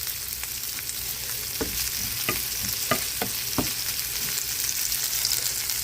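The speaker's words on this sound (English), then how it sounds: "and we check on what we are frying." Vegetables sizzle in a covered pan being cooked for rigatoni, a steady frying hiss broken by several sharp clinks and scrapes of stirring, loud and near with no talk.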